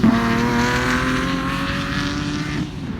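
An Aston Martin V8 Vantage engine revs hard on an open airstrip, a loud, sustained, steady roar with rising harmonic tones that eases off slightly near the end.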